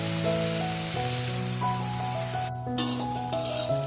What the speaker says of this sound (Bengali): চালটা আমার ভাজা হোক